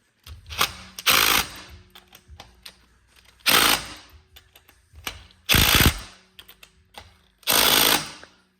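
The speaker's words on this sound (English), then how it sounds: "Give me that DeWalt, because you don't want your clutch flying off." A DeWalt impact wrench hammers in four loud, rattling bursts of about a second each, with short pauses of handling clatter between them, while removing a Ski-Doo pDrive clutch.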